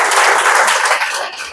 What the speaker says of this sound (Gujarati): આપણે પહેલા તો તાળીઓથી વધાવી લઈએ બેનને.